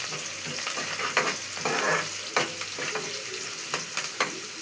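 Onions, coriander, garlic and dried red chilies frying together with turmeric and salt in a pan, a continuous close sizzle with frequent scraping stir strokes, no voices.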